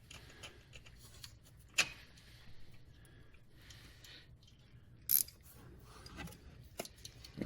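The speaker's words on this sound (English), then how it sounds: "This is where it helped to have a ratcheting wrench again" Ratcheting wrench turning a 13mm bolt in a cramped engine bay during a timing belt and water pump job on a Dodge 4-litre minivan, faint scattered clicks with a few sharper louder snaps.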